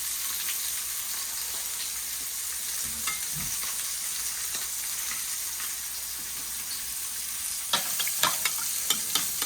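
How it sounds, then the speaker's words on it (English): Beef chuck stew browning in a pan with tomato paste being stirred in, giving a steady close sizzle with soft scraping and several sharper utensil clicks near the end. "So mixing in the tomato paste."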